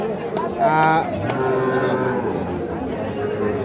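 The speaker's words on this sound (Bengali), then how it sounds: "বকনা বাচ্চা দেখছি আমরা" Calves low at a busy livestock market, a couple of loud drawn-out moos standing out near the start over a constant crowd murmur and chatter.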